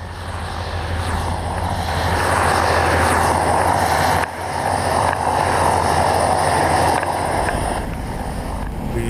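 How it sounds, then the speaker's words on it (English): A helicopter drones steadily nearby, its engine roar and rotor thrum filling the scene, with a brief dip midway before the sound returns. "Go to the helicopter and go around the front."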